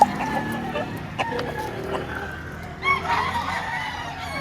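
Roosters at a busy chicken market in Lipa, Batangas, several crows overlapping at moderate distance with clucks and market background noise around them.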